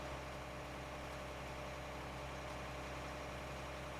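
Tractor engine idling in a farming video game on an old-timer farm map: a steady, unbroken low mechanical drone with constant vibration, close and even throughout, with no voices.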